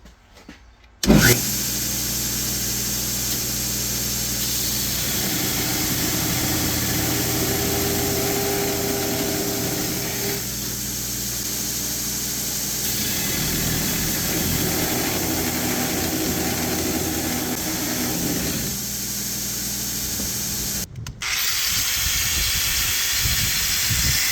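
An angle grinder spark-tests iron bars, a loud sustained high whine with grinding rasp that rises and falls as the wheel bites the metal, starting abruptly and briefly cutting out near the end.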